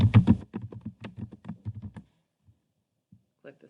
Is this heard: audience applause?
no